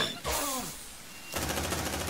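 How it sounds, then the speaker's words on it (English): Suppressive gunfire in Aliens: Dark Descent, a short burst of shots and then a sustained rapid stream of automatic fire that starts abruptly and keeps going. "Suppressive fire!"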